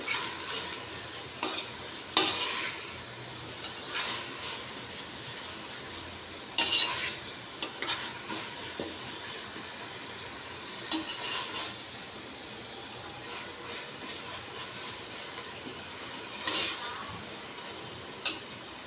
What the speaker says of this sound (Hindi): अब मैं इसमें प्याज डालूंगी